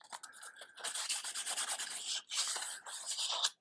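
Close, steady rasping strokes of a sanding block worked over a crankshaft during an engine install on a 1956 International, continuing in a rhythmic series with a brief pause midway and no talking.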